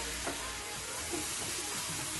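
Ginger garlic paste sizzles among frying onions in a pan, a steady, fairly soft hiss with faint crackles and a light stir, and no voices.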